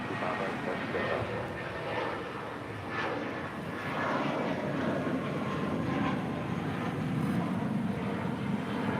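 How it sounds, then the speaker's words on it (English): A Spirit Airlines Airbus A320 arriving at LAX from Houston gives a steady, broad jet roar that holds at a moderate level throughout, with faint talk mixed underneath. "That is Spirit Airlines Flight 590 coming in from Houston, Texas in an A320"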